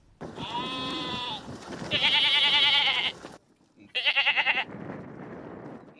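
Several loud, close bleats from Himalayan sheep in Nepal, long wavering calls separated by short pauses, with a quieter bleat trailing off at the end.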